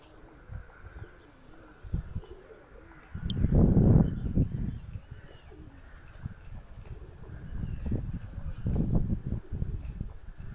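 Pigeons coo on a windy rooftop, low soft calls recurring in several swelling bursts over steady wind noise, fairly close and with no talking.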